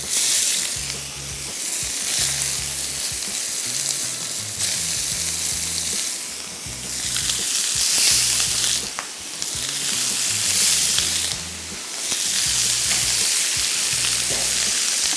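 Chicken shashlik with vegetables frying in a pan over medium heat, a steady loud sizzle with periodic bursts and low clattering knocks from stirring or moving the pan, no talking.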